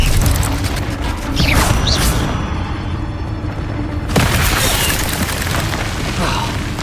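Bombarda spell explosions in Hogwarts Legacy, dense rumbling booms and crashing debris filling the mix continuously, with a sharp new blast about two-thirds of the way through, loud and close.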